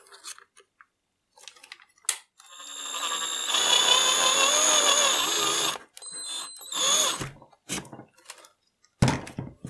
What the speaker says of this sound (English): this drill was exactly 6mm, so it may be too small